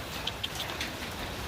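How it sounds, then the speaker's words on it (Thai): Sudden rain pours steadily in an outdoor rural setting, a dense even hiss with a few brighter drop taps near the start, no voices. "ฝนตกมาแบบกระทันหัน"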